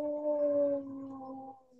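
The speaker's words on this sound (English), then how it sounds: "My dog is howling at the fire truck outside." A dog howls at a passing fire truck, a single sustained, wavering howl that fades out, close to the microphone and heard alone.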